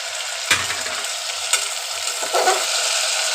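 Tomatoes added to a pan of frying vegetables and soaked dried peas for vegetable pulao: a steady close sizzle with a sharp clatter as they drop in, then a few soft stirring scrapes.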